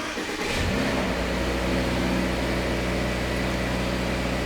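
Subaru Forester 2021 Hybrid e-Boxer engine starts and settles into a steady, close idle hum with a low even drone and no talk.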